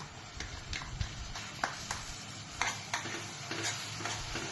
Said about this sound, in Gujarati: હવે આદુ મરચા અહીંયામાં નાખી દઈશું આપણે. અને લસણ